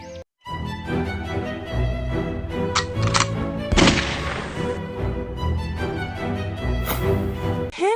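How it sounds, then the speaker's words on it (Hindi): Cartoon gunfire rings out from a hunter's loaded gun in a Hindi animated story, a sharp bang around the middle standing out over a busy musical score, with shorter cracks before and after. "वो बंदूक को लोड करता है और गोली चलाता है"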